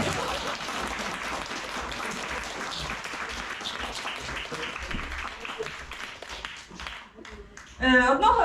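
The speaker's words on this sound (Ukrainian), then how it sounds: "можна аплодисменти мені, будь ласка" Audience applause at a Ukrainian stand-up comedy show, a long steady wash of clapping that lasts most of the stretch, fades out, and is followed by a voice speaking.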